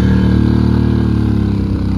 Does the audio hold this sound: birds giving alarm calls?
no